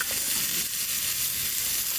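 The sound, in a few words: vegetables frying in a pan after ginger and garlic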